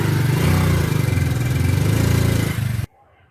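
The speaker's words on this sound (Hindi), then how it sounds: "तो ये करके बाइक स्टार्ट हमने और गियर लगाएंगे इसमें" A motorcycle engine runs close and steady after being started and put into gear, a loud continuous chugging drone that cuts off abruptly near the end, leaving near silence.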